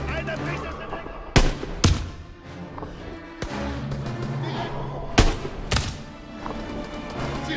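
Gunfire in Call of Duty: WWII, a World War II shooter: several sharp shots at irregular intervals, with two pairs of loud close reports standing out over a busy battle background.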